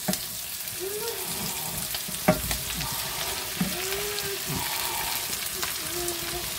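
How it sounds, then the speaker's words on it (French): Courgettes, aubergines, tomato and onions sizzle and fry in a wok, with a steady crackling hiss, a few sharp clatters of a utensil stirring, and faint tonal background sounds underneath. "on va mettre les courgettes, les aubergines et le petit peu de tomate avec les oignons"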